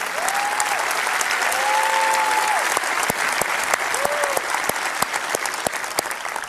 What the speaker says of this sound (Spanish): denles un buen aplauso.